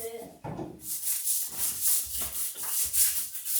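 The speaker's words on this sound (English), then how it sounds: "You gotta scrub harder." A surface is scrubbed hard by hand in a house being finished for move-in, with rapid rhythmic rubbing strokes about twice a second, close and scratchy, after a brief voice at the start.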